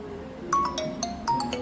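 A mobile phone ringtone plays for an incoming call, a short melodic series of bright electronic tones over a low background hum during a road trip.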